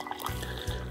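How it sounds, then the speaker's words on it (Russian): Boiling water from a kettle pours into a cup in a continuous splashing stream, close and fairly loud, with no talking over it. "Я наливаю кипяток."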